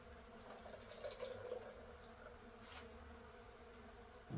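A faint, continuous hum of many honeybees buzzing close by, a steady drone with no talking.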